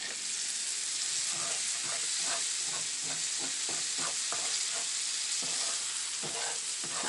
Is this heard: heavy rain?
no